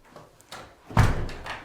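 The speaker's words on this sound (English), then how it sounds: "I have to close the next gen door." A door in a new single-story Las Vegas home is pushed shut, a firm thud following a few lighter knocks and rattles nearby.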